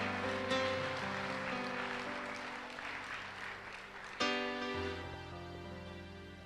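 A church congregation applauds in a steady wash of clapping that swells and slowly fades, with sustained organ or keyboard tones underneath and a fresh chord entering partway through.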